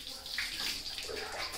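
Water splashing and pouring during a bath, a short hissing gush of water close by, fairly soft, with no clear speech.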